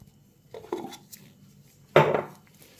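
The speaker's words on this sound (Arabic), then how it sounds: "ونقلب كل ده مع بعض." Burger mix with salt and chili being stirred in a bowl, two short bursts of scraping and clattering with a louder clack near the end, otherwise quiet.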